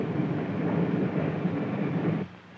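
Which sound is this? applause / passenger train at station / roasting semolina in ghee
passenger train at station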